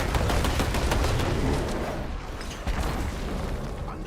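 Rapid gunfire and impact bursts from attacks in the action game Diablo 4, a dense, loud stream of shots and booms that eases slightly midway before resuming.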